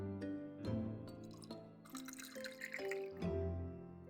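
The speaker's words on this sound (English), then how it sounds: "Just refilling my water." Water poured to refill a drink, heard as a liquid trickle and drips beneath a steady musical background, fairly faint and continuous over a few seconds.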